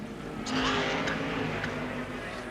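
Twin cam Ford Escort touring race car at a 1971 circuit meeting, engine drone building as it powers through fast sweeping bends, a steady mid-distance roar with a brief surge, faint commentary voice underneath.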